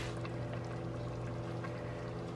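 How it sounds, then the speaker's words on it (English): Hot pasta cooking water poured from a pot into a jar at a home kitchen stove, a steady continuous splashing pour over a low hum, lasting a couple of seconds with no talk. "I'm going to take a little bit of this pasta water and add it to my pasta jar."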